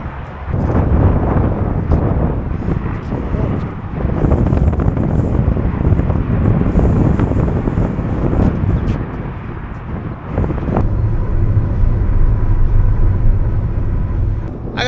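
Strong wind buffets the microphone in a constant heavy rumble and roar, gusting throughout with occasional rattles, loud and close.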